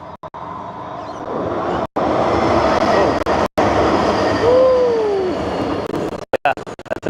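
A tram passes close by, a loud sustained rumble of wheels on rails with a brief squeal in the middle and sharp dropouts in the sound.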